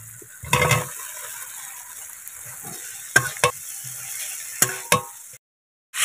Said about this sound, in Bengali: সবজি কষানো হয়ে গেছে